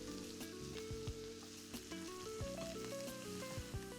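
Butter and garlic sizzling in the corner of a hot pan beside a flank steak, a steady crackling fry with dense popping spatters throughout, fairly faint and close.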